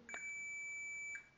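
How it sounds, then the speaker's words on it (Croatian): A multimeter in continuity mode beeps while its probes test a hair dryer's thermal switch: one steady, clean electronic tone holds for more than a second, close and clear over faint background hiss. "kao što možete čuti, instrument pišti"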